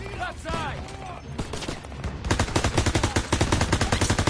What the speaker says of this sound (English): Daniel, let me fire on the right.